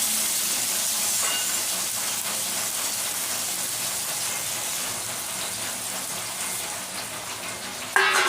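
Steady, loud hiss of steam escaping from a pressure cooker heating water runs continuously, with a brief sharper burst near the end.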